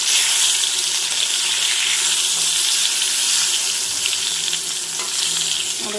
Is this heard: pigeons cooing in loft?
no